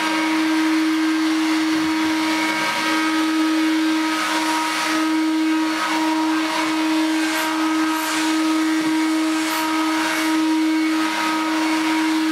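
A vintage Hooverette stick vacuum cleaner runs steadily with a strong, constant motor whine and airy hiss, its tone shifting slightly as it is pushed around a floor corner, with no talking.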